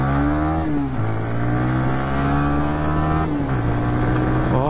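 A Hero Xtreme 125R motorcycle with a 125cc engine accelerates hard from first gear in an acceleration test, its engine note climbing loud and close, then dropping at each gear change before climbing again.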